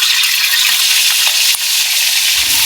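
Fish frying in hot cooking oil, a steady bright hiss and crackle of sizzling that holds evenly throughout, close and loud with a few small pops and no talk.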